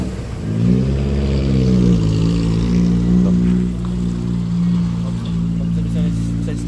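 A truck engine, its cab damaged in a crash with a bus, cranks into life with a brief rising rev. It then settles into a loud, steady running drone close by.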